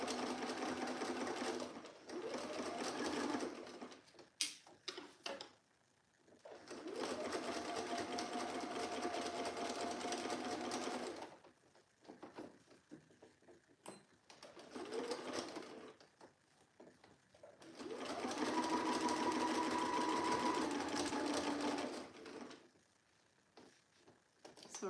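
A sewing machine stitches a bulky jacket seam in three long bursts of steady whirring, separated by pauses with light handling noises, close and moderately loud.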